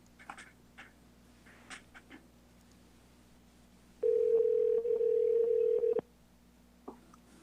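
A steady telephone dial tone sounds for about two seconds as a participant is called during a city council meeting, loud and alone, with faint background murmur before and after.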